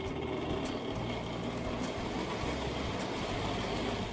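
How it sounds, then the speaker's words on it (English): A postwar-era toy model train rolls along its track with steam sound effects switched off, giving a steady close mechanical hum and rumble with faint periodic clicks of wheels over rail joints, heard alone. "I just love the sound of the train on the rails."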